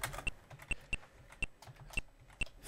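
Keys clack on a computer keyboard while typing for the Mario Teaches Typing game, about a dozen crisp, fairly quiet taps in an uneven rhythm with no talking.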